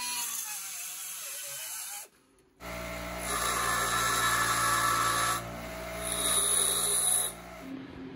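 Metal parts being cut for an 80cc bicycle engine build, a steady loud grinding-rasp in three sustained bursts separated by a short pause, close by with no talking.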